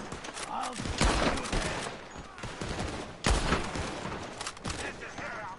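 Several players open fire at once in Red Dead Online, a dense burst of overlapping gunshots followed by a second loud volley about two seconds later, with scattered shots between and faint voices underneath.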